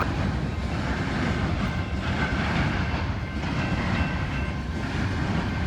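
A CSX train, likely an empty coal train, rolls around a curve with a steady, loud rumble of rail cars and a faint tonal whine, continuous throughout with no talk.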